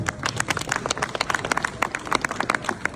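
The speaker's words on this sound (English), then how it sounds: "Big applause for him." An audience at a Europe Day gathering at the Consulate General of Belgium applauds the Belgian Consul General. Many hands clap in a brisk, dense patter close by, keeping an even level throughout with no talk over it.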